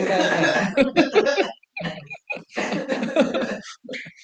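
Someone coughs in bursts, several harsh breathy coughs separated by short silences, close and fairly loud, sounding almost like chuckles.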